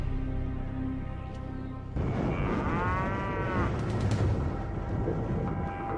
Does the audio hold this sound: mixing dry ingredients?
no